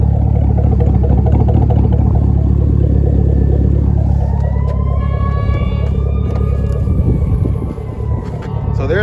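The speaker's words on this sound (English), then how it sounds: "The exhaust there." Deep, steady exhaust rumble from a 2012 Chevrolet Camaro 2SS convertible idling nearby, loud and continuous throughout, with faint whining tones drifting above it.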